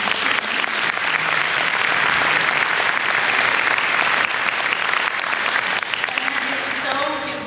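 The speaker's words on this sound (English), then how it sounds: "please give them a round of applause for this" Audience applause at a college all-staff day, a dense, steady wash of clapping from a large crowd that continues evenly throughout, with a faint hint of voices underneath.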